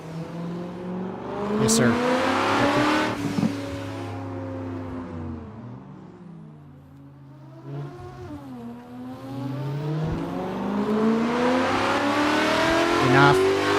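Car engine revving and droning through shifting pitch sweeps while drifting in the Assetto Corsa racing game, loud and continuous with a brief dip midway, a person briefly talking over it.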